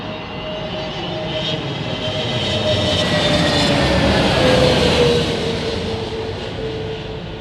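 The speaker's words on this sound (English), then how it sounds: "Morgan loving the sound of the engines on his sound system." Jet aircraft engines at London Heathrow Airport roar loud and steady, a broad rumbling whine that swells and slowly fades as a plane passes nearby, with no talking.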